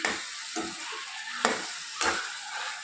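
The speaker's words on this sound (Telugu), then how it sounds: "ఈ టమాటాలు, వంకాయలు బాగా కలుపుకొని మూత పెట్టి మరికొద్దిసేపు మగ్గిద్దాము" Tomatoes and brinjal cook in a pan under a soft sizzle, and a spoon scrapes through them in four distinct strokes spaced about half a second to a second apart, close and quiet.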